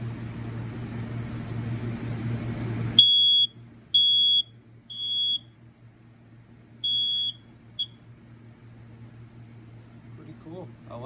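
A BRK CO5120B carbon monoxide alarm, interconnected with smoke alarms, sounds a loud, piercing high beep in short bursts with uneven gaps, following a stretch of low noise and talk.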